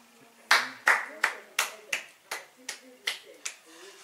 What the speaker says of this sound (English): we gotta stand up and clap